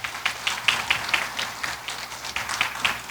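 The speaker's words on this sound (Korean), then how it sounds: "다시 한번 뜨거운 박수 부탁드리겠습니다" At an academic memorial conference at a Buddhist studies institute, an audience claps after a presentation. The applause is a moderate, fairly quiet patter of separate claps, steady for a few seconds, with no talking over it.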